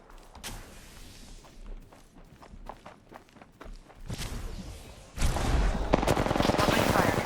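Video game gunfire with rapid automatic bursts that build from scattered shots and footsteps into a dense, loud, continuous barrage during an enemy squad attack.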